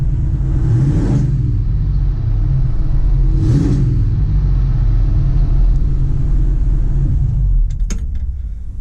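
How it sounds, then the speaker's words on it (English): A 1959 Ford Ranchero engine rumbles loudly and steadily, rising in two brief revving surges, then settles before a few clicks at the end. "when we rev the engine up"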